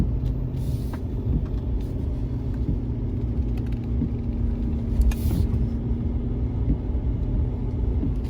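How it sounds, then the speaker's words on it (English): A 2019 Ford F-450 Limited towing about 34,000 lbs down a steep hill in first gear, its engine brake holding back with a loud, steady low rumble and drone, close and continuous with faint clicks over it. "Engine brake's holding back on this steep little hill here."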